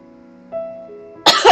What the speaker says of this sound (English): Not mean to cough, I'm sorry.